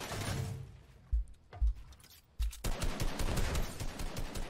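In a video game, a minigun and other automatic weapons fire in dense, rapid bursts. The first bursts come in short spurts around brief gaps, then a loud sustained stream of shots runs to the end, with no talk.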